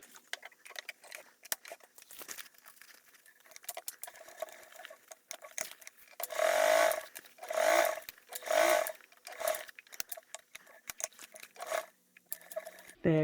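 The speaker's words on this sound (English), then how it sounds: "now what we're gonna do is we are going to top stitch along that box" A sewing machine top stitches along a box seam on an insulated tote bag, three bursts of whirring motor close by between quieter taps and handling noises.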